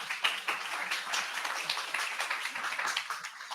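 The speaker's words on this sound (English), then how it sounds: "Thank you for the round of applause." An audience at a game-industry talk gives a round of applause for a speaker, a dense, steady patter of many hands at moderate distance with no voices.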